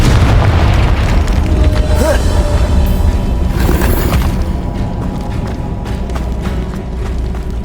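A loud, dense boom from the Confringo explosion spell in the game Hogwarts Legacy, a heavy rumbling blast that stays full and continuous, with a voice briefly heard in it.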